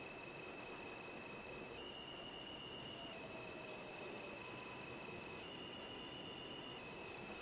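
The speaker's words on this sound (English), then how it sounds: "This is a new Lots Avenue bound 4 train." A New York City subway 4 train bound for New Lots Avenue rumbles with a steady, dense roar and a sustained high-pitched wheel squeal throughout, loud and close from inside or beside the car.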